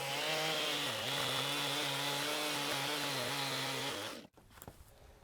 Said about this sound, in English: We'll just get the chainsaw and make a pass right there